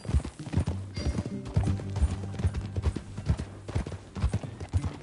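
Horse hooves clip-clop at a steady riding gait in Red Dead Redemption 2, close and continuous, with a low musical score and a faint whinny beneath.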